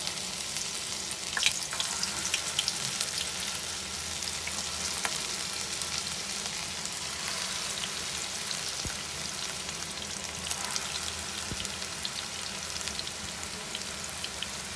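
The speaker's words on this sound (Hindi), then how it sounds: "धीमी आंच पे बिल्कुल फ्राई हो रहे हैं" Gola kebabs fry in hot ghee over a low flame, giving a steady, close crackling sizzle that runs unbroken throughout with faint stirring ticks and no talk.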